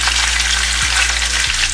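Skinless mahi mahi fillet pan frying over medium-high heat, giving a steady, close, dense sizzle with no voices.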